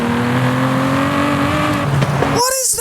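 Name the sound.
Aston Martin 177 engine sound in Forza Horizon 5 video game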